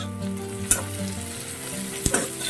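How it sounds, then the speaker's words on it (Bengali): Onion and capsicum frying with a little salt in a pan for a Bengali chicken dish, a steady close sizzle with two sharp utensil clinks, no voices. "পেঁয়াজ আর ক্যাপসিকামটা তো ভাজা ভাজা হয়ে গেছে।"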